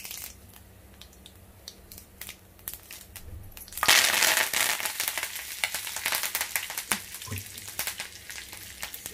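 Cumin seeds and curry leaves hit hot oil in a pan, setting off a sudden burst of loud crackling and sizzling that settles into steady frying pops, with no talking.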